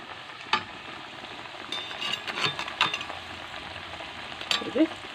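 Pieces of green jackfruit snack frying in hot oil make a steady close sizzle, with occasional sharper crackles and stirring scrapes against the pan.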